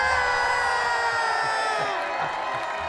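Mourners at a funeral shout and cheer together in a dense, sustained crowd roar with chanted voices, loud and close throughout the brief moment.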